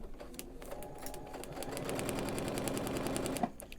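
A sewing machine stitches a quilt block, its needle running in a fast even chatter that builds steadily and then stops abruptly.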